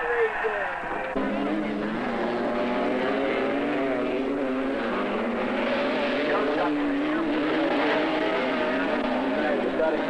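Several 125cc expert-class racing motorcycles from 1973 hold a loud, continuous mixed engine drone at the starting line, the pitch wavering as the engines rev, with a voice talking over it.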